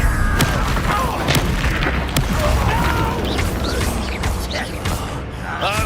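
Incendio fire spell cast in the Hogwarts Legacy video game, a sustained roaring, crackling blast of flame with a deep booming rumble throughout, mixed with whooshes and faint game voices.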